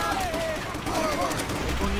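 Machine gun fire from the video game Call of Duty: World at War rattles steadily through a short chaotic battle stretch, mixed with shouting voices and general combat noise.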